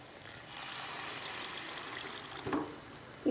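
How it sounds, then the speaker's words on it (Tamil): Water is poured into a masala poori gravy in a kitchen, making a soft, faint trickling hiss for a couple of seconds, followed by a light clink near the end. "இப்போ நம்ம கிரேவிக்கு தேவையான அளவு தண்ணி ஆட்"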